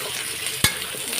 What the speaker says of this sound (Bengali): দেখো এদিকে আলুটা ফ্রাই করে নিচ্ছি